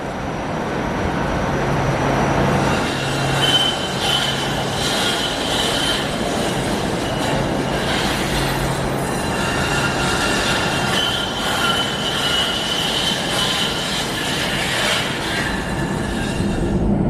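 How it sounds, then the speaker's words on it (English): Toronto Route 509 streetcar running through the Union Station loop, its steel wheels squealing steadily on the curved track over a constant rumble and clatter, loud and close for the whole stretch with no talking. "Union Station happens to have a streetcar loop, which is where the Route 509 boards."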